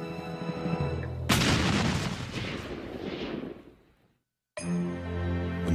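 Cannon fire in an 1835 skirmish between Texians and Centralist troops before the Alamo: one loud, sudden boom that rumbles and decays over about three seconds, then cuts to silence, with music playing before and after.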